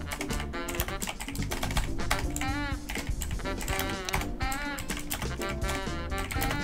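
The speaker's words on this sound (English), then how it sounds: "All I hear is you typing." Rapid clattering keystrokes on a computer keyboard, dense and continuous, with voices faintly underneath.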